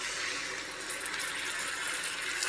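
Tamarind pulp poured over boiled taro in a pot for a Telugu taro stew, a steady wet splashing hiss lasting a couple of seconds, close and fairly quiet with no voices.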